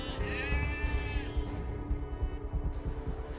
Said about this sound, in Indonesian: itu kayak suara kambing ya?